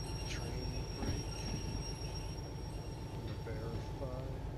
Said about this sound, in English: Train brake.